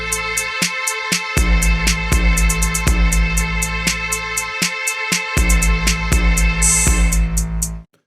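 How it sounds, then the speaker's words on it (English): A minor third interval repeats in a smartphone music sequencer, two synthesized notes sounding together over a steady looping beat with bright hi-hat ticks, cutting off abruptly at the end. "So that's the sound of a minor third."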